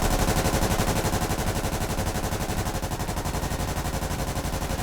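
Sustained machine-gun fire from four gunners in the shooter game Squad, a loud, dense, unbroken stream of rapid overlapping shots that continues throughout.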